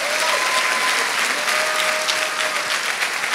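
Loud, dense applause from a church congregation clapping for the Lord, a steady continuous roar of many hands filling the whole stretch, with faint sustained tones threading through.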